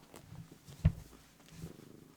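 A house cat purrs up close in a low, soft rumble, broken by a brief louder thump or rustle near the middle, with no talking.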